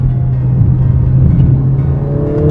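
A Mercedes-AMG A45 S with its exhaust valves open revs to about 4000 rpm, giving a loud, steady, deep engine drone that climbs in pitch near the end, with no talk over it.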